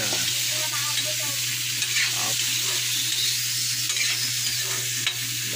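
Ingredients sautéing in a pan for tilapia cooked in coconut milk, giving a continuous, even sizzle with faint stirring, close by.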